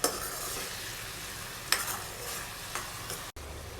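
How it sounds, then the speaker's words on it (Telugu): Onion paste and whole garam masala frying in oil for egg biryani: a steady close sizzle with light stirring scrapes, a couple of brief louder clinks, no talking. "చేసిన తర్వాత ఇవన్నీ కూడా పచ్చివాసన పోయేంత వరకు ఫ్రై చేసుకోవాలండి"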